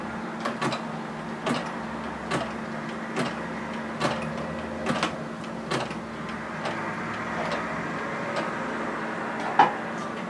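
Sewing machine being cranked while sewing on a button, producing a series of evenly spaced mechanical clicks and ticks over a steady low motor hum, close by.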